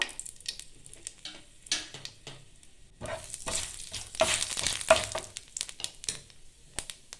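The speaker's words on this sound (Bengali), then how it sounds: "তারপরে দেবো আমি কালো জিরে ফোড়নের জন্য, দুটো শুকনো লঙ্কা" Nigella seeds and dried red chillies sizzle in hot oil for a Bengali bhindi chorchori, a faint crackling fizz with scattered pops and stirring scrapes that swell in the middle.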